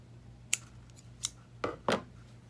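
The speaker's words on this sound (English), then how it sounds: "Now we just clip this thread." Scissors on thread while finishing a handmade sock baby doll: four crisp close snips spaced irregularly across a quiet room, the last two louder and nearer together.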